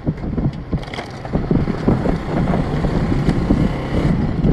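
Motorbike riding through the Makli necropolis in Thatta, Sindh, a continuous close engine rumble mixed with buffeting wind noise, with no talk.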